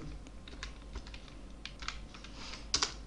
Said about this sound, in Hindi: यहाँ पर हम ब्रैकेट लगाएंगे और ब्रैकेट के अंदर टाइप कर देंगे ऑटो रन